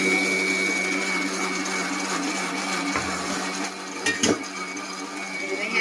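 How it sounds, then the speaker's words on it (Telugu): A kitchen mixer grinder blending chutney, a loud steady motor whine with a constant pitch, close by, briefly interrupted by a few knocks and rattles near the end. "అలానే చట్నీ కూడా మిక్సీ పట్టేస్తున్నాను"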